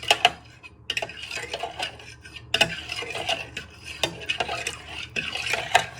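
A spoon stirs a flavouring mixture for a sausage, bacon and bean casserole until it dissolves, making repeated close metallic clinks and scrapes against the container in an uneven rhythm, with no voices.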